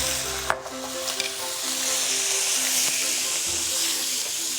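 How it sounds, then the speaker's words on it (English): Prawns and marinade hiss and sizzle steadily in a hot pan, a constant frying crackle with faint clinks of a utensil near the start. "pour in the prawns and the marinade. All at once, and they will sizzle"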